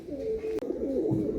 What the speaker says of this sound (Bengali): এটাও টিপলার পায়রা, ফুল সিরার লাইনের পায়রা